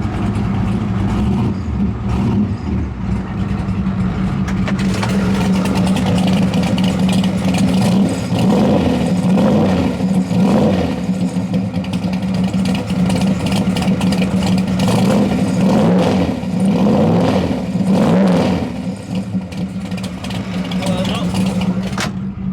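A 1976 Corvette C3 engine runs steadily just after start-up, a loud, close, low throbbing idle with periodic revs swelling and fading over about twenty seconds.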